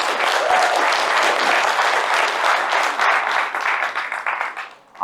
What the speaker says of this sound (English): If you could make a big applause for him